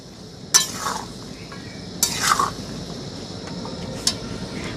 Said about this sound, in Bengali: পাঁচ মিনিট মতন হালকা আঁচে একটু নাড়াচাড়া করে নেব